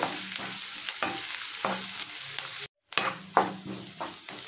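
Sliced onions sizzling in a pan of hot oil for a mutton curry, a continuous close crackle with periodic soft scrapes of stirring and a brief dropout partway through.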